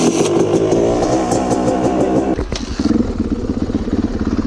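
Dirt bike engines idling and revving near a group of riders with track bikes on a mountain trail, including a Yamaha YZ250, a Kawasaki KX250 and an older 450; a loud, steady mechanical drone with a sharp blip of throttle partway through.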